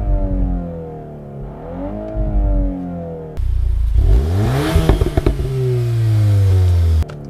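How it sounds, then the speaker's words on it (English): A Mk8 VW Golf engine in race mode revs up from idle and falls back several times, rising and settling loudly and close. A sharper, fuller blip follows before it drops to a steady idle drone. "So yep, it will sit at idle and rev and sound pretty cool."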